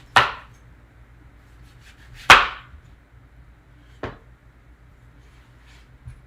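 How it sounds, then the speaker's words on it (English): A knife cuts fresh fruit into cubes on a board, three separate sharp chops spaced a second or two apart, close and clear against quiet. "you just cut slices and then into cubes"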